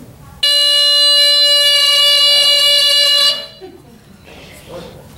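A household smoke detector sounds its test alarm, a loud, piercing steady electronic tone lasting about three seconds before cutting off, followed by quieter talk nearby.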